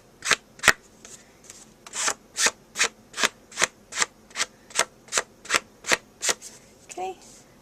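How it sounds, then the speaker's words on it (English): An ink pad is dabbed in a quick, steady run of about fifteen sharp taps along the edges of a handmade card, each tap crisp and close, with a short pause after the first pair. "just take this and just make a nice little color along the edges of my card"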